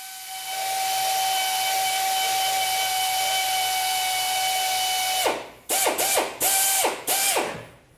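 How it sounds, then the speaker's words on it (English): A drill runs long and steady in one sustained whine while boring pilot holes into punch marks on a Jeep body for rock sliders, then follows with four quick start-stop bursts, close and loud. "Just drill a pilot hole in each one of the punch marks."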